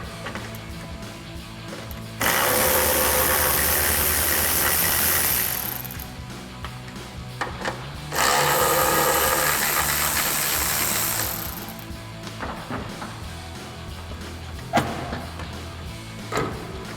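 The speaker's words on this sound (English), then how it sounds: "we'll grab a 10mm socket to take those out" A ratchet with a 10mm socket backs out the tail light bolts on a 2016-2023 Toyota Tacoma. It makes two long, loud bursts of fast, buzzing ratcheting close by, with quieter handling noises between and after them.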